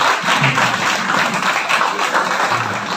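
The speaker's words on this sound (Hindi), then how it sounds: "तालियां बजाओ, खड़ो।" Audience applause at an ashram gathering honoring its caretaker, a dense, steady wash of many hands clapping close by that fills the whole moment without a pause.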